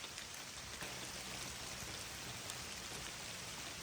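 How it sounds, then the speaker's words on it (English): Heavy rain pours steadily outdoors beside a teardrop trailer, a dense continuous hiss of drops drumming on surfaces without a break. "It's pouring."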